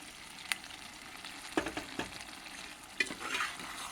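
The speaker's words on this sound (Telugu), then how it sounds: "వేసేసి బాగా కలపాలి, కింద మీదంతా మొత్తము ఈ ఉప్పు కారము అంతా పట్టేట్టుగా కలపాలండి." Cooked rice and four boiled lentils are stirred into a pan of frying seasoning with salt and chili for a dal khichdi, giving a soft sizzle broken by a few sharp spoon scrapes against the pan.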